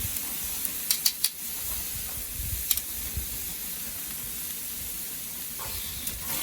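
Chicken sizzles and hisses on a hot grill with flames flaring, a steady close frying crackle punctuated by a few sharp pops and snaps.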